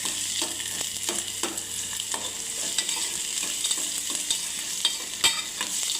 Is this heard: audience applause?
no